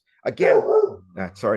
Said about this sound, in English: that's my dog. I got German Shepherd.